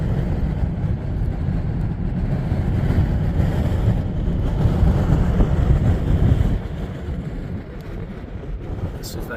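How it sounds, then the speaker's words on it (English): Strong wind buffeting the microphone on Engineer Pass, a high mountain pass above Poughkeepsie Gulch, a loud steady low roar with gusts swelling mid-way then easing slightly. "And the wind is absolutely whipping it."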